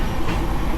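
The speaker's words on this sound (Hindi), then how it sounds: "इस वक्त हमारी ट्रेन जो है वो करीबन 100 के आसपास की स्पीड पर चल रही है, 95 से 100 के बीच में" Veerbhumi Express train running at roughly 95 to 100 km/h between Indore and Udaipur, giving a steady, loud rolling rumble and rattle of wheels and carriages with no pauses.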